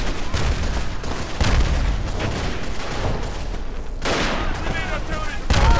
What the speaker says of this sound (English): alright. Artillery.